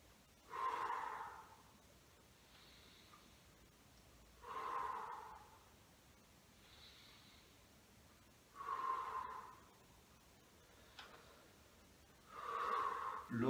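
Deep breaths drawn during a gentle seated mobility and breathing exercise: four strong, airy inhalations, each lasting about a second, spaced evenly with quieter exhalations between them, close to the microphone with no talking.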